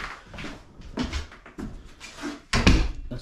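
A carpenter's newly fitted cabinet door is swung open and shut, with soft wooden knocks and creaks ending in a firm closing thud, close by and alone.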